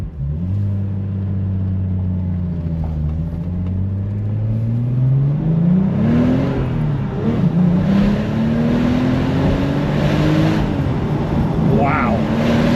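A Porsche 911 Turbo cabriolet drives with the roof down and windows up, its engine droning loudly and then revving up in rising sweeps, close and continuous with wind rush around it.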